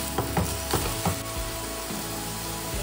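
Vegetables sauté in a pan for soya biryani, a steady sizzle broken by several sharp scraping knocks of a spoon stirring against the pan.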